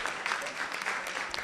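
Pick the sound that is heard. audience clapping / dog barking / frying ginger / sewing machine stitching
audience clapping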